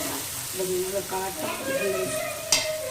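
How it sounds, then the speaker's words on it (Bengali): Spice paste with chilli powder and a little water frying and being stirred in a pan for banana flower kofta curry, a soft sizzle with scraping stirs and a sharp clink near the end. "সামান্য জল দিয়ে খুব ভালো করে কষিয়ে দিই মশলাটাকে"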